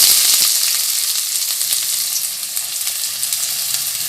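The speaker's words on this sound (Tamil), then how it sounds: "எண்ணெய் காஞ்சிட்டு வெங்காயத்தை போட்டு" Onions dropped into hot oil for an egg curry, giving a loud, dense sizzle that starts strong and settles into a steady crackling hiss with small pops.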